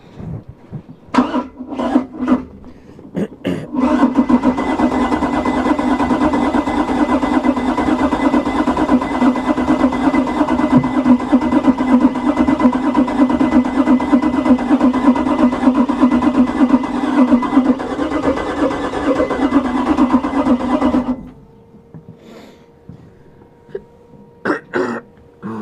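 A flooded 1996 Volvo dual-battery engine cranks for about seventeen seconds without catching, a loud, steady churning drone from start to end, with clicks before it and faint sounds after it stops.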